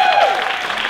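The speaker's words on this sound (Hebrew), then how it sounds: "מחיאות כפיים לכסף!" A short burst of audience applause for Kesef at a circus show, loud and brief, with a voice briefly over the clapping.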